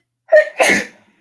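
A single close, loud sneeze, a sharp intake followed by a forceful burst, lasting about a second with no talking around it.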